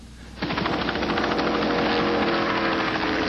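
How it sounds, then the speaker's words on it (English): A medical helicopter close by kicks in suddenly with loud, rapid rotor chopping that holds steady and dense, with no voices over it. "The medical helicopter was stationed only seconds away."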